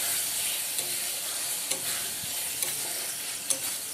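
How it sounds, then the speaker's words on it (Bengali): Fried potato pieces being stir-fried with spices in a pan for a Bengali katla fish curry, a steady sizzle with several soft spatula scrapes spaced through it and no voices. "এর মধ্যে এখন ভাজা আলুগুলো দিয়ে সমস্ত মশলার সাথে ভালোভাবে আলুগুলো"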